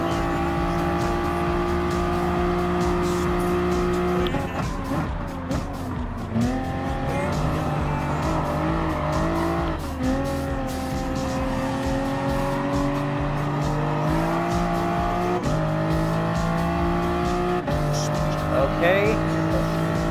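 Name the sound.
race car at full throttle in Gran Turismo Sport video game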